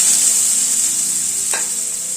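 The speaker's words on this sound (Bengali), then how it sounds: "সুগন্ধ বেরোনোর পরে আলুটা অ্যাড করে দিচ্ছি" Boiled potato frying in hot oil in a home kitchen, a loud, even, high-pitched sizzle throughout with one brief clink partway through.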